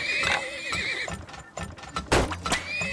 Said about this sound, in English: Let's actually put down some horses now.